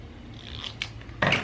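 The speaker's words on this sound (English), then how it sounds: "So I cut along that line of dots there" Scissors snipping through a paper sewing pattern along a dotted line: a few soft, close cuts followed by one louder, crisp snip at the end, with no voices.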